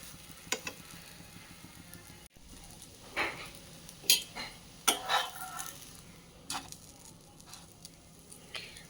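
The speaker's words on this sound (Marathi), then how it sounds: "फ्राय होऊ देऊ त्याला थोडंसं." A moong dal chilla fries in a pan with a faint, low sizzle, broken by a few scattered clicks and scrapes of a utensil against the pan.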